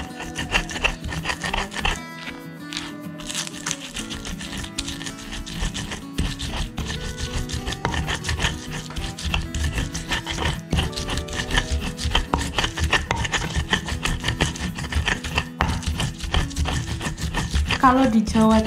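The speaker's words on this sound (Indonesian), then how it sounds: "Untuk cabainya bisa sesuai selera, ini kita haluskan." Chilies for rujak sauce are ground by hand, giving repeated close scraping and rubbing strokes in an uneven rhythm, with a voice talking over the grinding.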